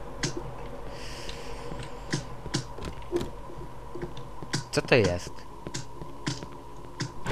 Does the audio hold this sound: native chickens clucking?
no